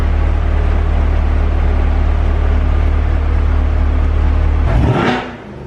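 A Corvette's front lift lowering the car, a loud steady motor whir and hum that ends with a short hissing release as it drops away.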